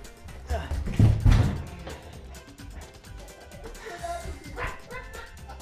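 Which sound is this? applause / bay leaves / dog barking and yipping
dog barking and yipping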